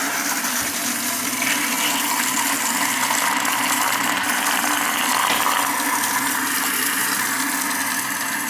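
A Sloan Flushmate pressure-assisted toilet with a replaced flush cartridge flushes in a loud, sustained rush of water that stays steady and forceful throughout, heard up close without voices.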